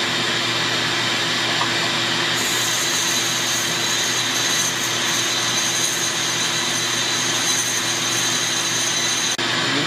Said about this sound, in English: So I'm just going to go up in here and grind this way.